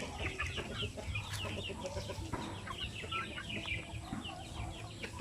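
Shamo Aseel hens cluck and chatter continuously amid a busy farmyard background, with occasional louder calls cutting through the steady din.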